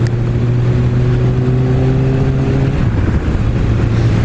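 A 2016 Kawasaki Ninja ZX6R 600 motorcycle ridden on a road, its engine holding a loud, steady drone that dips briefly in pitch partway through, with wind noise throughout.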